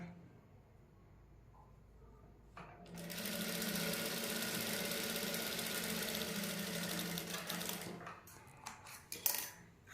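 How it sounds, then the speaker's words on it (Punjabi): Electric sewing machine stitching mesh lace onto the sleeves of a dress, starting after a quiet moment into a loud, steady continuous whir that runs several seconds before stopping, followed by a few handling knocks. "ਆਪਣੀਆਂ ਦੋਨੇ ਬਾਹਾਂ ਤੇ ਸਿਲਾਈ ਲੱਗ ਗਈ"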